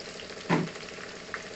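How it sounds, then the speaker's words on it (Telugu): Onions frying in oil with a pinch of salt for a mutton curry: a steady close sizzle that swells into a brief louder crackle as the pan is stirred, then settles again. "ఉల్లిపాయలు బాగా ఫ్రై చేసుకోవాలండి"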